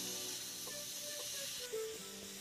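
Potato and tomato sizzle in a hot frying pan with a soft, steady hiss, faint and close, with occasional small pops and a light scrape partway through.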